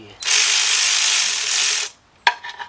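A cordless ratchet works a timing cover bolt on a Chrysler Sebring 200 or Dodge Avenger engine, sounding as one loud buzzing whir of almost two seconds that stops abruptly, followed by a short sharp clack and faint clicks.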